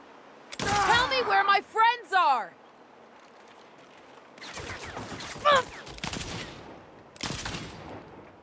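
Saints Row video game gunfire, with sharp bursts of shots crackling in short clusters, while an in-game voice shouts over the first part of the clip.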